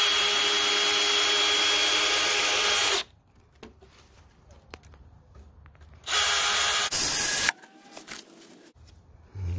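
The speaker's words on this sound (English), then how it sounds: "And this one here, I think I'm going to see if I can just get away with going on an angle here. Screwing into it like so." Power drill driving repurposed screws into pallet wood boards for a fence, two loud bursts of whirring with quiet handling noise between them, close up.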